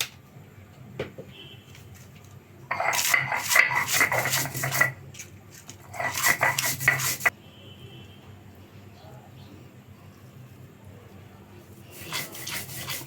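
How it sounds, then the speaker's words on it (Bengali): Dried red chillies are ground by hand on a grinding stone, with two bursts of rough, rhythmic rubbing and scraping up close, a shorter one at the end, and quiet pauses between. "এখন আমি শুকনো মরিচগুলো বেটে নিব"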